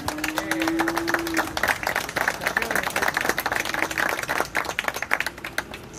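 An audience claps throughout a livestock auction, producing dense, steady applause with a faint voice or tone running underneath in places.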